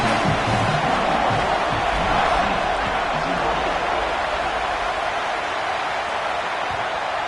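A home crowd at a Georgia college football game against USC, a broad steady wash of cheering and crowd noise, loud and sustained throughout, with a voice faintly under it.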